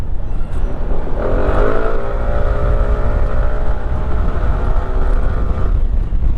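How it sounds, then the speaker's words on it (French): KYMCO Skytown 125 scooter engine accelerating, a rising droning whine building over rushing wind noise and holding steady for several seconds before fading. "Il a la pêche, par contre il est assez bruyant, même quand on met pas poignée dans l'angle."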